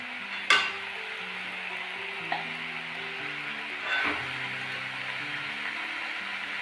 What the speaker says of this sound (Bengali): সব সবজিগুলো মশলার সাথে কষিয়ে নেবো